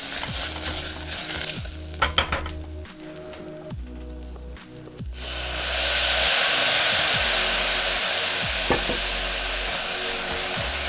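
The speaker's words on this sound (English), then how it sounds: "At this point, add in the tomato paste and give it a quick saute." Tomato paste added to caramelized fruit and vegetables hisses into a loud, steady saute in the pan, with scraping stirs early on before the broad sizzle takes over, no voices.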